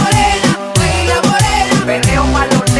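A reggaeton beat pounds loud and close, with a steady kick drum under a syncopated 3-3-2 snare pattern and dense layered synth and bass.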